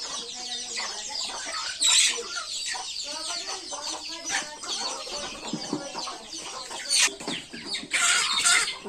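Domestic household chickens cluck steadily and close by as they peck around, with occasional sharper squawks rising above the continuous clucking.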